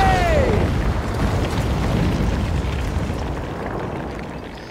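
A loud, heavy explosion in the video game Second Extinction opens with a sharp blast and a falling whine, then a long rumbling roar that slowly fades over several seconds.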